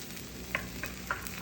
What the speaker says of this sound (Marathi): पराठा तूप लावून दोन्ही साईडने भाजणे